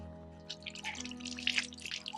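Water is poured from a vessel over someone's hands in a Haryanvi home, making a soft, close splashing trickle with scattered drips; no speech is heard.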